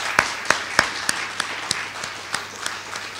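Audience applause at a university inaugural professorial lecture, a sparse, fairly quiet patter of scattered claps with a few sharper individual hand claps standing out over steady room noise.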